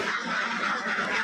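Ducks on a farm of about 250 birds raised for eggs, a dense, continuous chorus of quacking from a crowded flock, loud and close.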